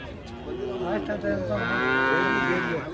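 At a crowded cattle market, a Jersey cow moos loudly and close, a long drawn-out call that climbs and holds, with people's chatter faintly in the background.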